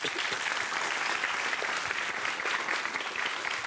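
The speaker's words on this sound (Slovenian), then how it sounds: "En aplavz za drugovrščene danes." An audience applauds the second-place primary school team at a speed-stacking cup competition, a dense sustained burst of clapping filling the room at even loudness throughout.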